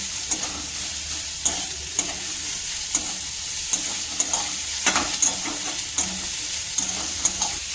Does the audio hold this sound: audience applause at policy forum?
no